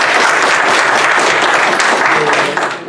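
Applause for a visitor at a church revival gathering, a loud, steady burst of crowd clapping with some voices mixed in, easing off near the end.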